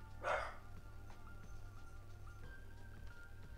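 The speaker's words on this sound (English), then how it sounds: "If you hear my dogs barking in the background," Dogs bark in a short burst near the start, somewhat distant in the background, with a steady low hum continuing afterward.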